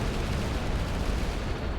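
Dense, continuous barrage of explosion and gunfire effects from a shoot'em up video game, rumbling heavily with no pauses across the whole stretch.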